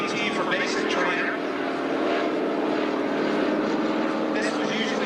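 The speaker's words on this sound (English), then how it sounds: "This is a demonstration on that L-19D." A single-engine L-19D propeller plane flying a demonstration pass at an air show, a steady droning engine roar heard from a distance, with a voice speaking over it throughout.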